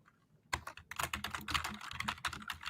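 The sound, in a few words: computer keyboard typing loudly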